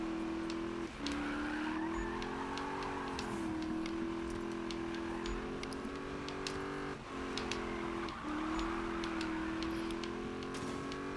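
A car drifts with sustained tire skid in the Need for Speed 2015 video game, a steady high engine drone layered with continuous squealing tires, dipping briefly a few times as the slide shifts, with faint clicks and taps scattered throughout.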